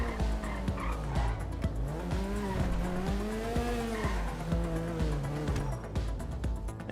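A car engine in GTA V Online revs and shifts pitch as the vehicle drives, with tires squealing and skidding in the mix, loud and continuous throughout.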